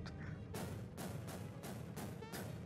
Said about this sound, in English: They're firing cannons on me!